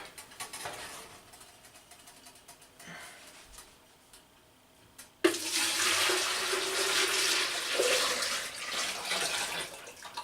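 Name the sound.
pouring wine mixture into a jug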